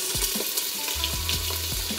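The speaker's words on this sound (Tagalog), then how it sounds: "Sinisir ko muna tong beef para makuha natin yung Maillard reaction." A beef chop sears in a pan with a bright, constant sizzle, broken by a few close scraping and tapping sounds as the meat is moved around.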